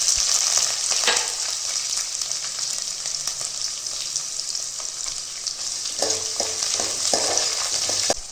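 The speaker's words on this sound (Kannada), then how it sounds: "ಕರಿಬೇವಿನ ಸೊಪ್ಪು ಮತ್ತು ಚಿಕ್ಕದಾಗಿ ಕಟ್ ಮಾಡಿರುವಂಥ ಈರುಳ್ಳಿನ ಹಾಕ್ಕೊಳ್ತಾ ಇದ್ದೀನಿ" Curry leaves and finely chopped onion frying in a pan for a beetroot fry, a steady bright sizzle with occasional stirring scrapes and taps, close and continuous.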